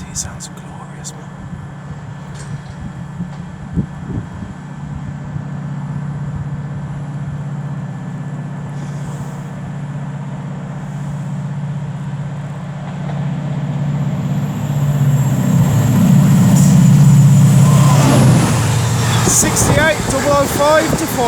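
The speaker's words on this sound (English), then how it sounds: "a DRS Class 68. You can hear this from an absolute mile off." A DRS Class 68 diesel locomotive hauls a freight train through Rugeley Trent Valley on the West Coast Main Line, its low engine rumble swelling steadily to a loud, close roar near the end, with a voice talking now and then.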